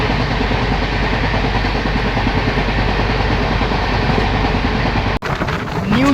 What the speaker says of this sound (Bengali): উমেদপুর জাংশন পার করার পর ট্রেন বেশ ভালো স্পিডেই চলছে